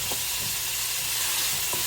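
Steady, loud sizzling of chicken breasts frying in a pan on too-high heat, a continuous crackling hiss with a few soft scrapes.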